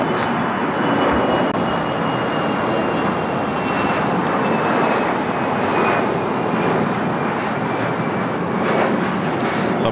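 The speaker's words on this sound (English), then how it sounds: "Bombardier Global 5000, destination unknown" A Bombardier Global 5000 business jet at LAX roars steadily and fairly close, with high engine whines sliding gradually across the wash of noise throughout.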